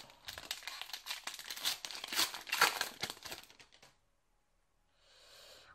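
The foil wrapper of a Yu-Gi-Oh! booster pack crinkles and tears open, a close, busy rustle lasting about four seconds. A pause follows, then a faint soft hiss.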